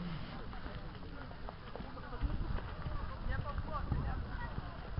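Horse hooves clip-clop steadily at a run as a rider guides the animal through a timed course at a Hubertus riding event in Silverado City, with a crowd murmuring and voices over the hoofbeats.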